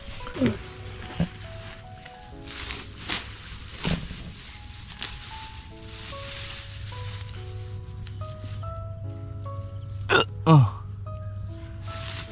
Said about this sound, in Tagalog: Sinisinok pa ako mga boards.